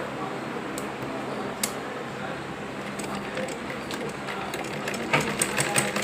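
A sewing machine runs steadily while stitching along the marked neckline of a blouse, a low continuous mechanical hum with a few brief clicks, moderately close with faint background noise.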